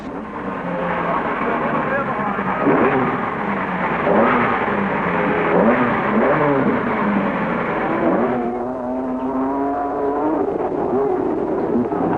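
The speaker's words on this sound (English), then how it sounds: "There were no compromises with the amazing Stratus, which was just as much at home in the dust of a rough rally as on the tarmac stages of Europe" A 1970s Lancia Stratos rally car engine revs hard through rising and falling gear changes, loud and close, while a narrator talks over it.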